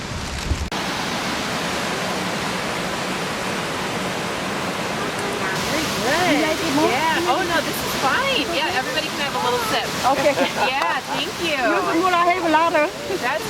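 A winter waterfall at Dry Creek Falls gives a steady, broad rushing roar throughout, and voices layer over the falling water in the second half.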